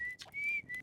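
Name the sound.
whistling in a video game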